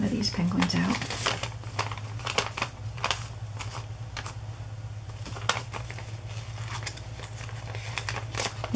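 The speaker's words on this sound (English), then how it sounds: "And I'm going to cut one of these penguins out." Scissors cut a penguin shape out of used gift wrap paper, making a steady series of crisp snips mixed with paper crinkling, close by, with a voice talking underneath.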